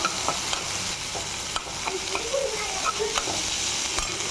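Onion and tomato sauté in a pan for a pani puri masala, with a close, continuous sizzle and frequent clinks and scrapes of a spoon stirring.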